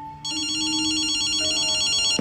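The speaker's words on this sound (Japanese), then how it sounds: "電話だぜ。" A telephone rings in the video game Ghostwire: Tokyo, a bright electronic trilling ring that starts after a short pause and repeats steadily over a faint background hum, ending abruptly, with no talking.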